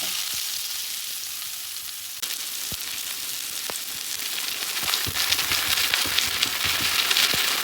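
Onions dropped into oil in a pan sizzle steadily up close, the crackle swelling louder partway through, with occasional sharp taps and scrapes of a utensil against the pan.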